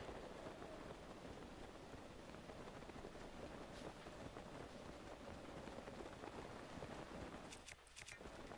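Steady rain falling in the video game Zelda: Breath of the Wild, a dense, continuous hiss of drops with a faint windy edge and a brief crackle of sharper drops near the end.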